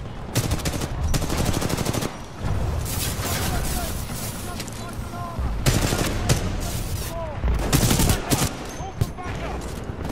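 Rapid bursts of energy-weapon gunfire from a Titan's splitter rifle in the Titanfall 2 video game, loud and sustained in repeated volleys with brief pauses, mixed with explosions and game voice lines.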